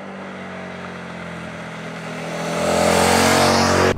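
A 2018 Suzuki SV650X, the retro café-racer version of the SV650, is ridden with a steady engine drone that swells louder and higher as it accelerates near the end, loud and close throughout.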